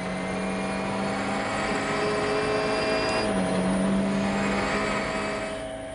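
A Citroën DS3 WRC rally car on the Monte Carlo rally screams past at high revs, its engine note droning loud and sustained with a pitch shift as it nears and passes, bouncing off the rev limiter.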